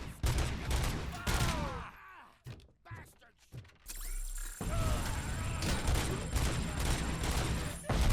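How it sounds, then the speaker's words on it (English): Gunfire and bullet impacts against hard surfaces in Robocop Rogue City, rapid bursts of loud shots and clattering hits, a brief lull with scattered thumps, then sustained heavy firing to the end. "the effects that go from hitting surfaces with your gun"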